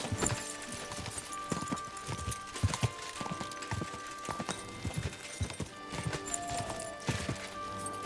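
Horse hooves clip-clopping in Kingdom Come: Deliverance II, a steady rhythmic trot heard close up with a brief whinny and game ambience underneath.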